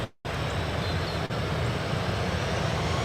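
A Southwest airliner at Austin-Bergstrom International Airport gives a steady broadband jet roar, loud and continuous after a sudden start, with no talk.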